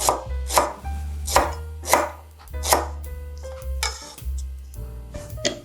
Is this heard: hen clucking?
no